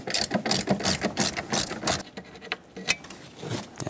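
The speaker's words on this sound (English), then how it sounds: "Now the 2 10mm bolts, if you lift up the cowl, are right in here that you can reach with a wrench or a ratchet." A ratchet loosens 10mm bolts on the engine mount of a 2012-2018 Nissan Altima 2.5L. Rapid clicking pawl strokes come in several close bursts, then a pause and a few more isolated clicks.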